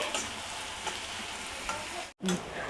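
Onions and cluster beans fry in a pan for a curry, giving a steady close sizzle with faint stirring scrapes and a brief break near the end. No one speaks.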